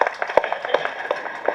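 Audience clapping for the director at a Tamil film's trailer and audio launch event, heard as a short, scattered burst of hand claps in a hall with a few sharper individual claps.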